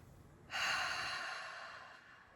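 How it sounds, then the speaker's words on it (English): One deep human breath, a single long, breathy inhale that starts abruptly and slowly fades out over about two seconds, close and clear with no talking. "Take a deep breath."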